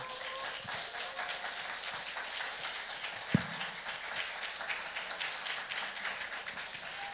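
A church youth worship conference crowd welcomes a pastor to the stage with warm, steady applause, heard fairly softly and slightly distant, running unbroken through the clip.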